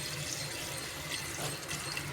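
Water runs into a cooking pot to boil chopped figs for a curry, a steady faint stream with no talk over it.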